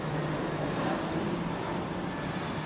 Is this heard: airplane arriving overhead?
yes